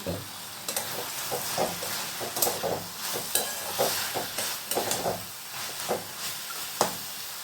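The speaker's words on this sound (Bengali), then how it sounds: "যতক্ষণ না জলটা শুকাচ্ছে ততক্ষণ পর্যন্ত আমি শাকটাকে নাড়াচাড়া করব" Bathua greens fry in a pan while being stirred until the water dries off, with a continuous moist sizzle and repeated close scraping strokes of the spatula at an uneven rhythm.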